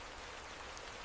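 Steady rain patters densely and evenly on dark water in the Sundarbans mangrove forest, a constant hiss of drops with no gaps or other sounds.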